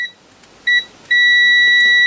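Multimeter continuity beeps as two probes touch: a short high tone, a second brief beep, then a steady held tone to the end, clean and loud with no talk.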